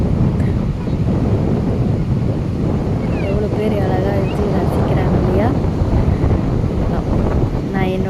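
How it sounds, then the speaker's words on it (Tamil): Strong wind at Kovalam beach buffets the microphone in a continuous loud roar, with faint voices or cries drifting in the background. "எப்படி காத்தடிக்கு பாருங்க செம்ம காற்று"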